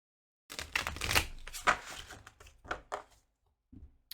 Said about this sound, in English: Let's shuffle first.